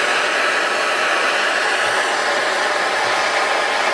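Steady, loud roar of a torch flame heating a seam while it is soldered on a copper moonshine still, an even hiss with no breaks and no talking.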